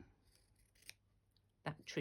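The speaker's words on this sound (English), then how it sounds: "maybe I'll use my big scissors" Large scissors snipping through fabric while stitching cosy fabric hearts: a few quiet close crisp cuts, a faint one early then two sharper snips near the end, with no talk.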